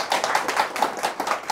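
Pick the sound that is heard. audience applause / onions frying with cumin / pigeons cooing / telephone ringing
audience applause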